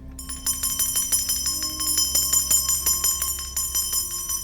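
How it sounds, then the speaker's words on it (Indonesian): A grandfather rings a bell, sounding a rapid run of bright metallic strikes that ring out and overlap into a shimmering, sustained chime. "Kalau kakek udah bunyiin lonceng,"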